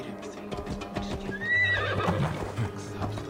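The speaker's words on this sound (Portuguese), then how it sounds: "Vou chamar o cavalo aqui." A summoned horse in Assassin's Creed Valhalla trots in with clip-clop hooves, then lets out a clear rising neigh and a snort, close and fairly loud.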